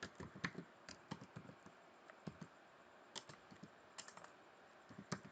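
Close, quiet tapping of keys on a computer keyboard, irregular bursts of clicks with short pauses between them, alone with no talking.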